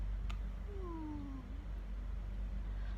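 A fourteen-month-old toddler imitates a cat's meow, one short rising-falling vocal call at moderate distance against a steady low background hum.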